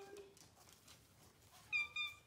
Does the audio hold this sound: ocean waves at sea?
no